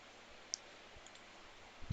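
A single sharp mouse click on an edit button while working on an ASP.NET C# project, faint and alone against a quiet background, with a soft tap just before the end.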